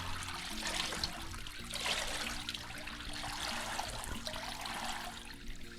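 Water trickles and drips steadily from a wet elk hide being squeezed by hand after a rehydration bath, a soft continuous dribble with a low hum underneath and no talk.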